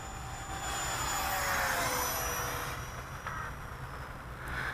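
A Freewing Rebel V2 radio-controlled jet streaks past at high speed, its electric ducted fan whining in a steady rising and falling whoosh as it passes overhead.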